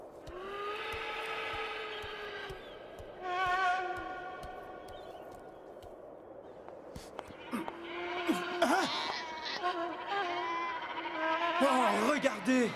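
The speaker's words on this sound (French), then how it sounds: "Des chèvres, mais je n'en ai jamais vu de semblable." Goats of an unfamiliar kind bleat in a series of high, wavering calls, first alone and then mixed with people talking nearby.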